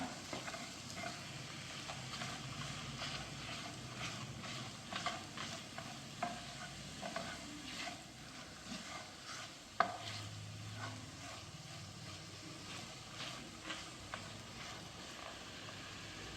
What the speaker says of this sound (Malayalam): നമുക്ക് ഇതിനകത്തേക്ക് കുറച്ച് പഞ്ചസാര ചേർക്കാം. ഇളക്കി യോജിപ്പിക്കാം.